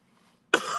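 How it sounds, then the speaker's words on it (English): A man gives a single sudden harsh cough close by after a near-silent moment, the rasp trailing off into a breathy tail. "I still got this fucking cough that I can't get rid of."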